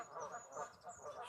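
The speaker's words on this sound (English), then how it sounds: "Swans, ducks, birds." Ducks and swans in a city park give repeated honking quacks in several bursts, moderately near, over a steady murmur of outdoor background noise.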